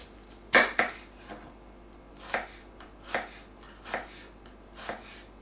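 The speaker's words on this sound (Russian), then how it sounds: "лук режем" Onions being chopped with a knife on a board, a series of separate sharp chops at an uneven pace, close and fairly quiet, no talk.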